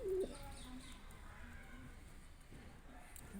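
A single short, soft coo of a pigeon near the start, then faint ambient hiss with a few distant bird sounds.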